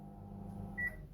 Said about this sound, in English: I just bought the microwave oven today